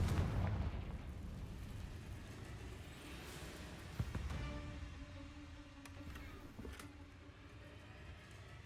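Confringo fire-spell explosions in Hogwarts Legacy, a loud booming burst at the start followed by a sharp crack midway and a rumbling tail that fades under lingering game ambience.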